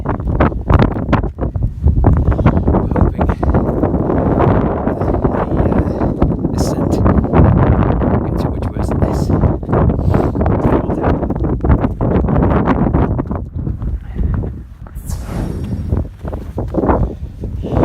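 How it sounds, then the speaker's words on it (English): Strong gusty wind on Snowdon in snowy winter weather buffets the microphone in loud, uneven roaring bursts, with a voice speaking briefly at the start and crunching footsteps. "it's not too bad, it's a little windy"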